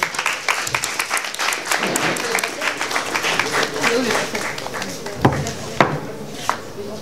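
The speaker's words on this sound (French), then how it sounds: "On l'applaudit s'il vous plaît." Audience applause during a trophy presentation at a women's slam poetry final, sustained clapping with a few sharp knocks and bumps mixed in, and voices murmuring underneath.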